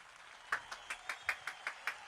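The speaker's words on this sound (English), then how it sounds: "All the little animals in the 100 acre wood are here, giving us some applause, but it's not very loud" A faint applause sound effect plays on a live stream, heard as about nine sparse, evenly spaced claps, quiet and thin with no crowd texture behind them.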